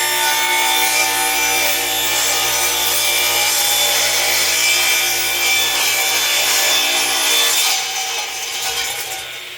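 Continuous loud sawing through wood while cutting a piece for a foot stool, steady and close with no talk, easing off slightly near the end.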